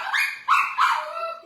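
A dog lets out three quick, sharp barks in a row, close and fairly loud, with a faint yip trailing after, and nobody speaking.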